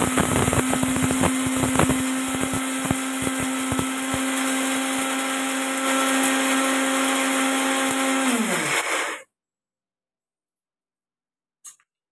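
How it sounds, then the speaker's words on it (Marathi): A kitchen mixer grinder whirs loudly at a steady pitch while it grinds cooled, soaked sabudana, runs for about nine seconds, then winds down and stops, leaving silence with a faint click at the end. "साबुदाणा थंड झालेला आहे, तो आता मिक्सरला बारीक करून घेऊया."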